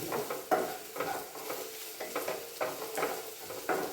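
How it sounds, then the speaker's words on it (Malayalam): Green chilies sautéing in a pan, with a soft sizzle under rhythmic stirring scrapes that repeat about every half second, quiet and without talk. "വഴഞ്ഞ് വരട്ടെ കേട്ടോ. അതുവരെ നമുക്ക് വഴറ്റിക്കാം."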